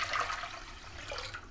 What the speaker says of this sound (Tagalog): Lagyan natin ng tubig yung ating